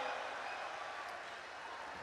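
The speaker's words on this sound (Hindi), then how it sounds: "ताली बजाओ मिलके सारे जोर जोर से।" An audience in a comedy hall applauds, a soft, dense patter of clapping heard from a distance that holds steady with no talk over it.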